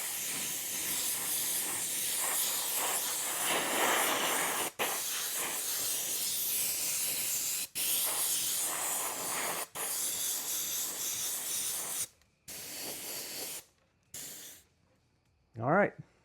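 An airbrush sprays Wicked Black paint straight from the bottle onto an RC beach body for an ARRMA Mojave Grom. It gives long, steady hissing passes broken by brief pauses, with shorter spurts toward the end.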